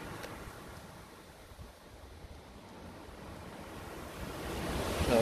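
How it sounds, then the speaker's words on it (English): Strong wind blasts across an outdoor microphone in a low, constant roar that swells louder toward the end, with no voices heard. "It's very windy."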